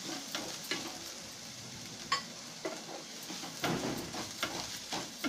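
Ginger, garlic and onion fry in a pan for a curd-based pointed gourd curry, giving a steady close sizzle broken by repeated scraping stirs of a utensil.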